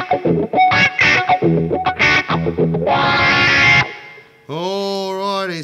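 Overdriven electric guitar through a Blues Driver into a Dunlop Cry Baby Junior wah: choppy distorted riffing, a thick sustained chord that fades, then a bending, wah-swept note that rises and falls.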